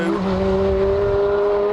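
A Ferrari 430 accelerates hard on a test track, the engine holding a loud, steady, rising tone without lifting, close and continuous throughout.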